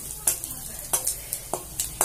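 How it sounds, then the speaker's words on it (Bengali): Cumin, bay leaf, cinnamon and cloves sputter in hot oil, a soft sizzle broken by quick, regular spoon taps against the pan. "ওই তেলেই আমি একটু সাদা জিরে ফোড়ন দিয়ে দেবো"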